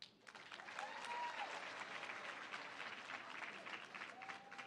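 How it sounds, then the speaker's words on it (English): Sustained applause from a graduation crowd at a nursing college ceremony, steady dense clapping filling the hall with faint voices or whistles rising briefly over it. "please help me welcome them all with a round of applause"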